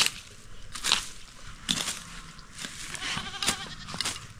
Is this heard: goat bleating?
yes